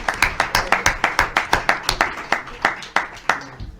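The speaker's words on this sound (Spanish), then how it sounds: "Les pido por favor un aplauso para Isareli" Sparse, distinct hand claps from a small audience at a panel discussion on water, each clap sharp and separate in an uneven rhythm over a few seconds.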